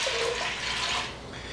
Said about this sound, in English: You basically just need 4 cups of water.